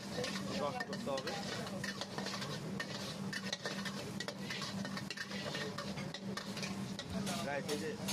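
Brown sauce poured into a hot pan for a chicken steak, with steady sizzling and frying, stirring and occasional clinks of a utensil against the pan, dense and close throughout.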